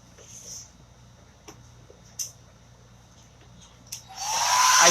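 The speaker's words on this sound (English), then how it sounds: "let's go ahead and hit this with the blow dryer." A blow dryer switches on near the end and roars steadily and loudly, drying chalk paint on a chalk-craft piece, after a few faint taps and handling sounds.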